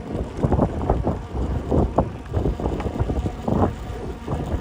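Wind buffeting the microphone during a bike ride on the Jamaica Bay loop in New York City, a loud rumbling roar that gusts and swells unevenly throughout.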